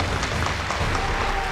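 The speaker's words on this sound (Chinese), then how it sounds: "下面就让我们用掌声请出这一对，掌声有请。" A studio audience on a television talk show claps, a dense, even burst of applause heard steadily and alone for a moment.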